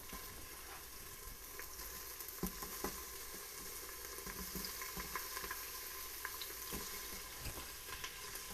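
Onions for Philly cheesesteaks sizzle in a pan in a steady, quiet hiss, with scattered pops and a few soft scrapes of stirring.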